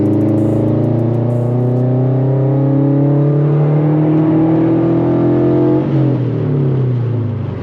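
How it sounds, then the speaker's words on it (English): A loud straight-piped Subaru BRZ/Toyota 86 exhaust roars steadily as the engine revs up on a highway pull, its pitch climbing through the gears with a raspy, unmuffled tone. "let's go ahead and hear this exhaust"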